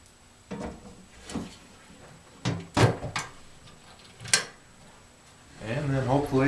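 The door of a Mills Gooseneck slot machine is fitted into place, producing several sharp metallic clicks and knocks spread over a few seconds, followed by someone talking near the end.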